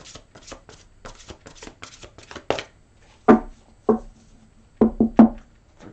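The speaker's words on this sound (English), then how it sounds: "One more shuffle." Tarot cards shuffled by hand, a close, quiet run of quick papery riffles followed by several sharper, separate slaps as the deck is squared and tapped.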